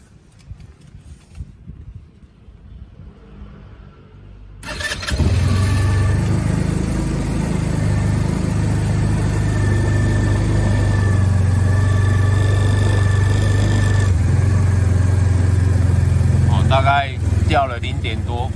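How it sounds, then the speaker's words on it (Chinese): A motorcycle on a lithium iron battery in 10°C cold cranks and starts after a few quiet seconds, then idles loudly and evenly before the engine cuts off near the end, with a voice talking over it. "我们来测试一下它锂铁电池在这么寒冷的天气来发动，看看它的电压变化是怎么样"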